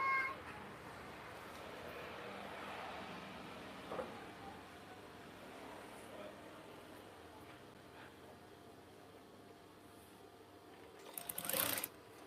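A sewing machine stitches curtain fabric with a faint, continuous whir heard from a distance, and a brief louder burst comes near the end.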